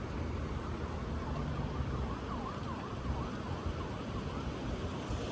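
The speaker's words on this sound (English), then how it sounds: "I hear more sirens, so maybe he called for backup" Emergency vehicle sirens wail faintly in the distance, a rising and falling tone under steady background rumble of traffic and outdoor ambience.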